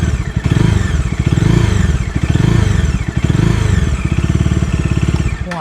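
A Bajaj Dominar 400 motorcycle engine revved with the throttle, its loud, close, pulsing exhaust rising and falling through several blips before cutting off at the end, with no one talking.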